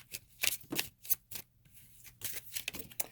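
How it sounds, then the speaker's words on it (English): Playing cards are shuffled in a series of quick riffling bursts with brief pauses between them, close and fairly quiet. "I've been shuffling the cards already"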